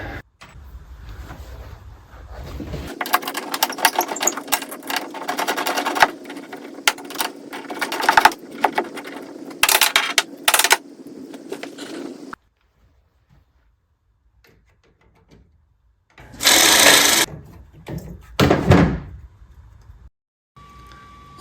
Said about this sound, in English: we have removed the nuts and the bolts from the paddle